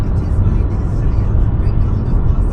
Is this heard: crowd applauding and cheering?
no